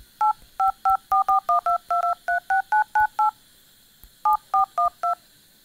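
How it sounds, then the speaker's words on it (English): Redmi Note 4 phone dial pad touch tones, a quick run of about a dozen short dual-tone beeps as numbers are tapped, a brief pause, then four more beeps, close and clear with faint background hiss. "sound is coming when you tap on a number"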